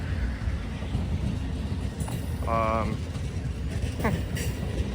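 A passenger train with a first class sleeper car rolls past at Elkhart, a steady low rumble of wheels on rail with a brief horn-like tone, while a voice speaks over it.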